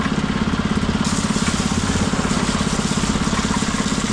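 Concrete mixer churning a sand and blocks mix on a building site, a loud, steady engine drone with a rhythmic grinding pulse, close by and continuous throughout.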